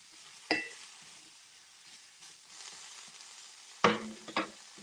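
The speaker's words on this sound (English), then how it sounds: "So we're just gonna dry saute these. Give them a good stir." Chanterelle mushrooms dry-sauté in a pan, a faint steady sizzle broken by two louder scrapes and clinks of stirring.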